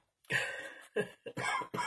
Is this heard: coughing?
yes